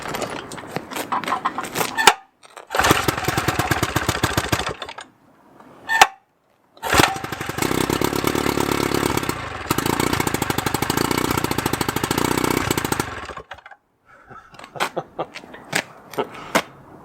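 A 50-year-old Johnson outboard motor starts and runs in loud, close bursts, its rapid chattering drone broken by short silent pauses, with scattered knocks between runs.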